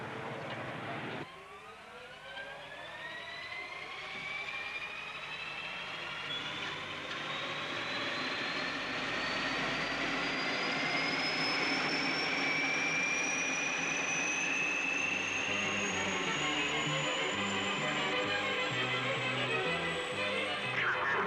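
Small propeller plane on its takeoff run, the engine note climbing as a rising whine with strong harmonics as power builds. The roar grows louder and steadier toward the end, and there is no talk over it.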